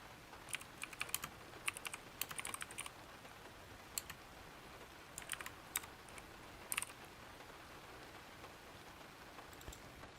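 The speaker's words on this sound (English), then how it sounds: "then we can try typing with the other microphone." Keys clacking on a computer keyboard in a quiet office at night, picked up through a second microphone, come in scattered irregular bursts over a steady low hiss, fairly soft and with no voices.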